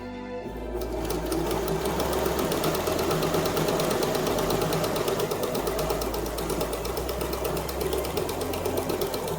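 A sewing machine stitches fabric along a marked line to make half square triangles, running at a short stitch length in one steady, continuous mechanical whir, close and loud with no talking.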